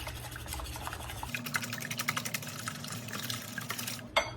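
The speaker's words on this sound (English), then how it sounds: "I can get a really good whisk and make sure that all of the whites and the yolks are fully combined" Eggs, whites and yolks, being whisked in a bowl: quick, light, repeated clicking taps at a steady rhythm, close but fairly quiet over a low background hum, ending with one sharper knock.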